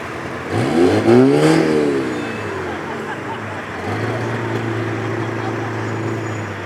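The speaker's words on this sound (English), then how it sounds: "Certainly smoky, those little racing trucks." Small racing trucks roar past at a race meeting, one engine revving up and sweeping by with a rising then falling pitch, followed by a steadier engine drone as another truck holds a lower note.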